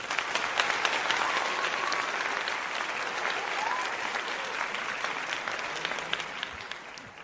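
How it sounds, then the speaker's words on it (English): A crowd applause sound effect, dense continuous clapping that stays loud and steady throughout, tapering slightly toward the end. "let me give you some applause, gang."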